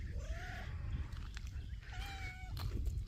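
A cat meows outdoors in a garden, giving two drawn-out, rising-and-falling calls about a second apart, close but moderate in level over a low background rumble.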